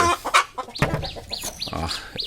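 Chickens at a hill poultry market clucking repeatedly in quick, rising calls, close and fairly loud, with several birds overlapping and some faint shuffling behind.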